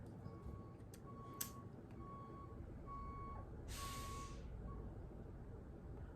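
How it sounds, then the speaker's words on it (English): Evenly spaced reversing beeps from a truck, moderately distant, repeating over a steady low rumble, with a brief burst of hissing air midway. "I'm hearing beeping."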